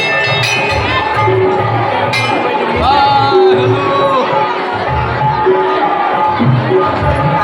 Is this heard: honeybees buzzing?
no